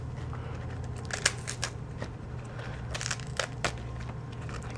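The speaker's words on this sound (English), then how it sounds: "I kind of like the crunchy sound the leaves make too." Close, crisp crunching and snapping of fresh napa cabbage leaves, a handful of sharp bursts spread over a steady low hum.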